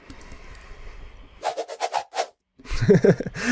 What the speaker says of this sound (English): rope, you know, like a rope swinging around